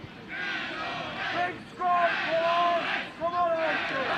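Fans on a grassy hill shout and chant at a schools rugby match between The Oratory and London Oratory, a rowdy crowd roar that surges in waves with distinct raised voices.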